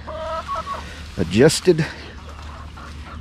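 Chickens cluck in a big outdoor pen, a few close bursts of clucking and squawks mixed with someone talking nearby.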